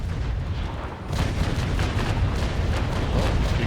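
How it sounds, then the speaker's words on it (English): Naval Action sea battle with cannon fire and balls skipping across the water: a dense, continuous rumble of heavy booms and low thuds that swells louder after the first second and keeps rolling with no speech. "Cannonballs bouncing out there,"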